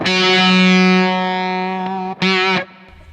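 A sustained, heavily distorted electric guitar note through a LOE Sounds Super Fuzz octave fuzz pedal, buzzy octave-fuzz tone, then a brief break and a second loud fuzzy strike that cuts off abruptly.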